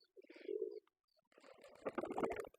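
Quiet pigeons coo nearby, a soft low call followed by a brief pause and then a busier stretch of cooing and fluttery sounds.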